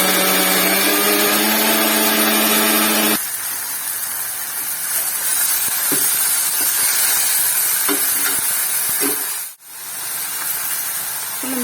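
A kitchen mixer grinder blends tomatoes for a green manathakkali kuzhambu, a loud steady motor whine for about three seconds before it cuts off, followed by quieter kitchen clatter and a few light knocks.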